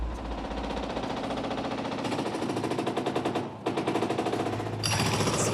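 Demolition machinery tearing down a building used as a drug-dealing spot in a housing estate: a dense, rapid rattling clatter of breaking material and hammering that runs continuously and loud, with a brief dip before surging again.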